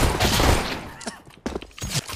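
Counter-Strike gunfire, a dense burst of shots at first, then several sharp separate single shots in quick succession, loud and close.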